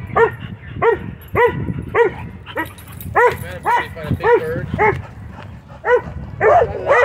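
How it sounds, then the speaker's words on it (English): A dog at a dog park barks repeatedly at a kite, with short, loud, close barks and yips in an irregular series, sometimes slipping into whimpers. "barking at a kite over there in the distance"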